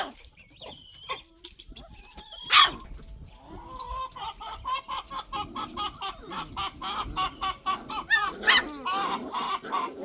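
Chickens cluck repeatedly in a farm pen shared with young purebred and mixed Maremma puppies, a busy close chorus of short rhythmic calls with a couple of louder squawks and faint voices underneath.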